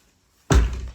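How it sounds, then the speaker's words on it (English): The door of a chicken coop built into a shed slams shut with a single loud thud after a moment of near silence. "Close the door behind me."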